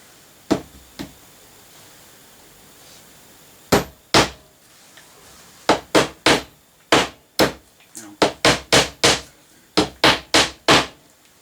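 Sharp strikes from an old hammer ring out while reworking model railway track, a few scattered at first, then a quick run of regular blows, close by with quiet pauses between.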